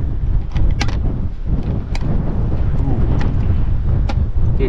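Steady wind buffets the microphone in a constant low roar during an outdoor yabbying (freshwater crayfish catching) outing, with a few brief knocks and faint voices mixed into the gusty rumble.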